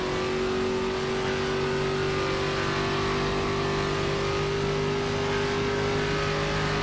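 Steady, loud race car engine drone in the racing sim iRacing, holding a constant pitch, a continuous mechanical hum with no speech.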